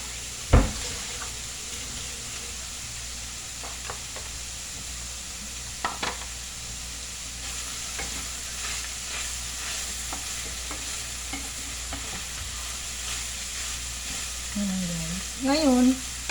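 Milkfish (bangus) frying in a pan for sisig, a steady close sizzle running throughout with occasional pops and stirring scrapes, a sharp clatter near the start and some faint talk.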